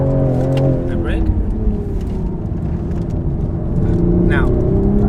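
Toyota Supra lapping a track, engine droning and shifting pitch as it brakes and pulls away again, loud and close, with tire squeal bursts and an instructor's voice talking over it.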